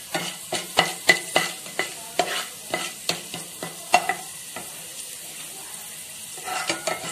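Hulled lentils and other ingredients frying in a pan for a South Indian aam bhat dish, with a steady low sizzle under repeated scraping strokes of a spoon stirring against the pan at an uneven rhythm.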